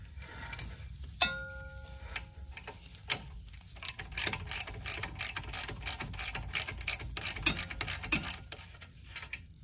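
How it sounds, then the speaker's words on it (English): A ratchet loosening the 16 mm rear brake caliper bolts on a BMW 135i with an N55 engine and Brembo brakes, a close, rapid run of sharp clicking pawl ticks in irregular bursts, growing denser and louder after a few scattered clanks. "you want to remove the two 16 millimeter bolts in the rear."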